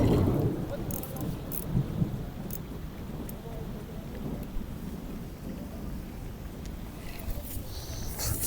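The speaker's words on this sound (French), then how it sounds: "Sous l'orage en plus." Thunder rumbles low and long through a steady rain during a carp-fishing outing outdoors, the storm continuous with brief crackles and a distant roll, no voices over it.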